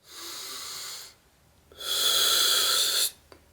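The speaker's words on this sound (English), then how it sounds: "Take a deep breath." A deep breath during a guided mental exercise: a long, airy breath drawn in, a short pause, then a longer, louder breath let out, close and alone.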